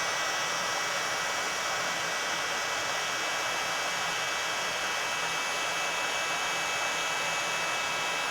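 A heat tool blows steadily against the back of a watercolor painting to dry the paint, a loud, constant hiss of rushing air that holds without change, with no talking.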